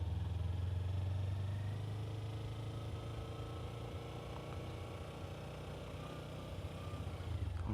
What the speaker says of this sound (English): I might have to turn off the bike for them so they can hear me. I don't think it idles too loud.